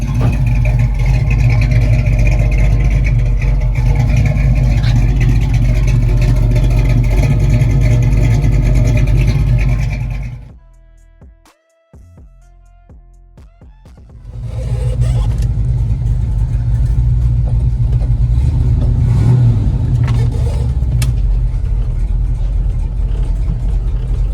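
A loud 1969 Chevrolet Camaro engine with a soft cam runs with a deep, throaty rumble, cuts out for a few seconds, then starts again and keeps running steadily.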